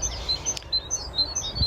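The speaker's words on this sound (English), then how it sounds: "there's a little chiff chaff in the background you can probably hear" A chiffchaff sings a repeated series of thin, high chirping notes at a steady rhythm, moderately distant over a quiet outdoor background with a brief rustle partway through.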